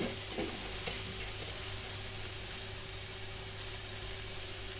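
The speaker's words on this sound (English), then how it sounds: "We'll give it a nice saute at this stage." Spinach and methi greens sauté in hot oil with a constant, even sizzle, a low steady hum underneath and a couple of faint knocks early on.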